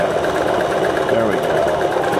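Kenmore 14-stitch sewing machine running a zigzag stitch, a steady loud mechanical whir with a fast rhythmic chatter filling the whole short stretch, with no pauses.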